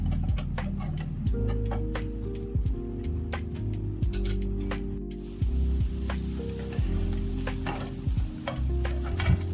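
Filled bread pockets toast in a tablespoon of oil in a hot pan, giving a steady soft sizzle with light ticks and occasional scrapes, close and continuous.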